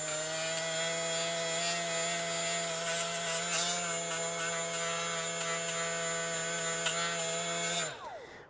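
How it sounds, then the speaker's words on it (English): A cordless Milwaukee right angle die grinder runs at a steady high whine for about eight seconds, loud and close, then spins down abruptly when switched off, with no talking. "If you ever used a right angle die grinder, especially the air ones, super loud."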